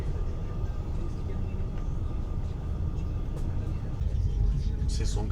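Steady low rumble of a moving, very hot train carriage in Luxembourg, constant and droning, with faint rattles and a slight swell near the end.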